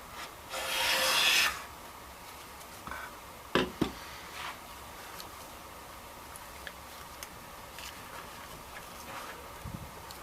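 A Stanley No. 4 hand plane with a Square 1105 iron shaves fine curls off wood in one loud rasping stroke near the start, followed by a couple of sharp knocks and faint ticks over a quiet background.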